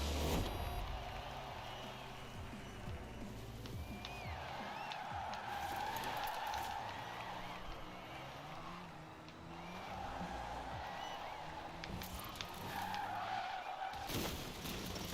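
A Rimac hypercar in the Forza racing game skids around a lap. Tires squeal in long sustained bursts over a continuous engine whine, with no speech.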